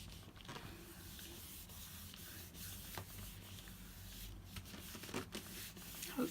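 A gel plate print pressed onto card and rubbed by hand, giving soft, steady scuffing and brushing strokes close by, faint and continuous throughout.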